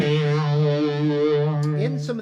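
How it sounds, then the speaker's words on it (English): An electric guitar sustains a chord through an orange MXR Phase 90 phaser pedal, giving a close, swirling, sweeping tone that hangs for about two seconds before a few quick picked notes. "with a phaser, specifically the orange box by MXR called the Phase 90"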